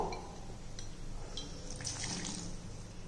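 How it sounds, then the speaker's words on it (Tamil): Water trickling softly into an oats mixture in a kitchen while a drink is being prepared, a faint steady pour with light splashy drips, quiet and close. "இப்போ இதை வந்து கொஞ்சம் தண்ணி ஊற்றி கொஞ்சமாக தண்ணி ஊற்றிக்கிடுவோம்"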